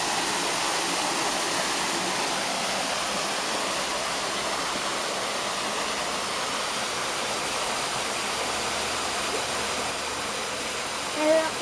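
Water rushes steadily through a preindustrial water mill, the Molino de los Corchos, with its grinding gear set turning; a dense, constant roar holds at close range, and a brief faint voice is heard near the end.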